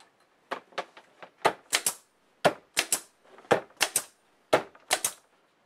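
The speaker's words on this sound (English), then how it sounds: "I'm going to use my brad gun, put a few brads to hold that in place." A pneumatic brad nailer fires brads into wood during a jig build: sharp, loud, close snaps come alone in quick pairs and triplets, separated by short pauses.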